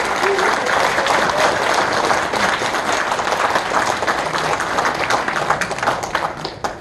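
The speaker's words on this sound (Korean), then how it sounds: "이분들을 그 이사님으로 모시고자 하는데 다들 동의해 주시면 박수로." Sustained, dense applause from an audience in a National Assembly meeting room fills the whole stretch, steady and fairly loud, approving proposed board members at a founding assembly, tapering slightly near the end.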